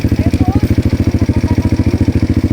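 Motorcycles on a rural road near a school in Lapantay, Philippines, putter with a close, rapid, steady engine beat, and a few faint whistle-like tones ride above it.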